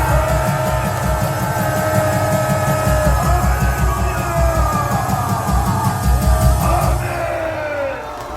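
Loud rally crowd in Korea at an outdoor national assembly on Liberation Day gives a standing ovation, with sustained cheering, whoops and shouts over a steady rhythmic din, close and dense throughout.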